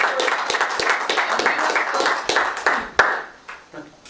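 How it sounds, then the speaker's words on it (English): A museum audience at a book talk applauds to welcome a speaker: a modest crowd clapping with distinct individual claps audible, swelling briefly and then thinning out as it winds down. "y'all give him a round of applause"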